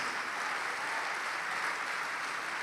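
Steady applause from a church congregation during a Portuguese-language worship service, a dense unbroken wash of clapping hands holding at an even level throughout, with no voices standing out.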